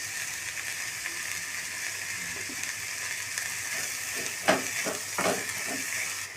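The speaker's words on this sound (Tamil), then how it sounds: "தக்காளி ஓரளவுக்கு வதங்கிடுச்சுங்க." Tomatoes and capsicum with a little salt sauté quietly in a pan, a faint steady sizzle with a few scraping stirs toward the end.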